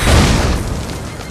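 A single loud, booming gunshot rings out in a film scene and decays over about a second with no talk.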